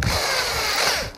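An electric drill drives a screw into pine boards, a short, loud, continuous whirring grind lasting about a second before trailing off.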